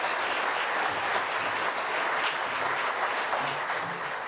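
Audience applause at an architecture awards ceremony, a steady, dense wash of clapping from a large crowd that continues evenly throughout without pause.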